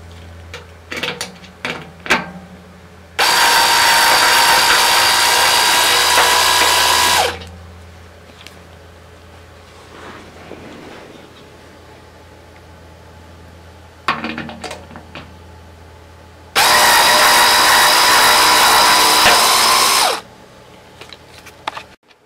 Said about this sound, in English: I remove the screws from the base of the optical tube all around.